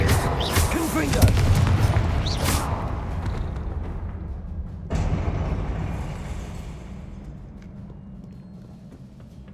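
Confringo explosive spell in Hogwarts Legacy: a loud, rumbling blast fills the opening seconds, then a second sharp burst hits midway and its boom slowly fades under ongoing game noise.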